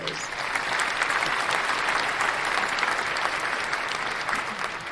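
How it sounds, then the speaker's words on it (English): Steady, full applause from a sizable crowd, dense clapping holding at an even level for the whole stretch with no talking over it. "let's give him a round of applause"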